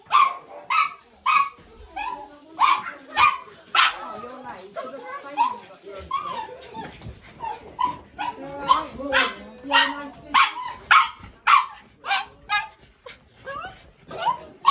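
Several dogs bark repeatedly in sharp, loud bursts, some yips and whimpers mixed in, with a voice talking between the barks.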